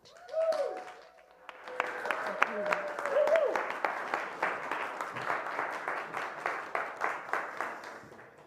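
An audience claps and cheers as a speaker is welcomed onto stage, building from a few whoops into sustained rhythmic applause that gradually settles into steadier, slower claps.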